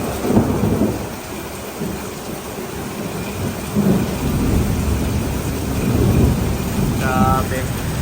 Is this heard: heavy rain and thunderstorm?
yes